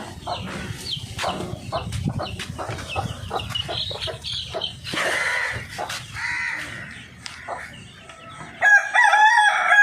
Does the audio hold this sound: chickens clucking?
yes